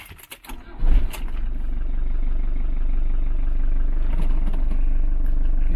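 A 1996 Fiat Ducato-based Hymer B544 motorhome engine cranks with a brief rattling burst, catches, and settles into a steady, loud low rumbling idle that runs unbroken to the end.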